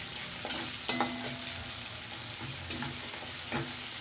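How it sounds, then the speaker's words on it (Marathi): Finely chopped onion fries in oil for a fish curry, a steady close sizzle punctuated by several scraping stirs of a spoon against the pan. "त्या तेलामध्ये मी एक बारीक कांदा बारीक कापून टाकून दिलाय, त्याच्यामध्ये फ्राय होणार"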